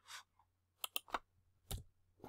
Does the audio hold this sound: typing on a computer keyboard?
yes